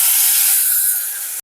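Water from a mixer jar hits hot garlic chutney masala in a pan and sizzles as a loud, close, sharp hiss. It fades slightly over about a second and a half, then cuts off abruptly, with no talk.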